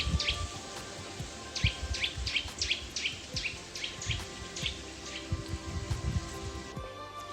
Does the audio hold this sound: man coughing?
no